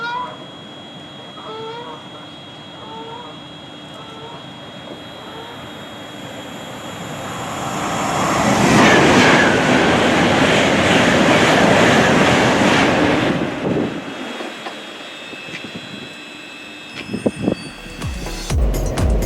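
A London Northwestern Railway train arrives at a station, its rumble and hiss swelling to a loud roar up close before cutting away sharply, followed by a few clunks and beeps.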